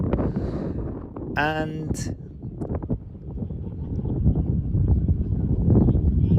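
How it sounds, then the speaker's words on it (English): Wind buffets the microphone in a steady rumbling rush by the ocean while a person speaks, with a brief tonal sound partway through. "It's quite windy"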